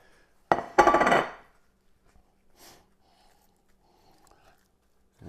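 A plate is handled on a table beside a cooking setup for 80/20 beef burger brats, giving a short loud clatter that quickly fades, followed by faint scattered clinks and near silence.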